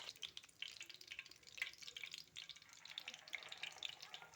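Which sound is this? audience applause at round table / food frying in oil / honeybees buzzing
food frying in oil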